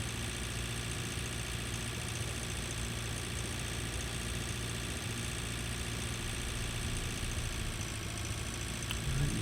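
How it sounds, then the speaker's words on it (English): A heavy tractor in Pure Farming 2018 climbs a hill, its engine giving a steady low, vibrating drone that holds nearly unchanged for several seconds. "You can see this heavy tractor takes that hill with ease."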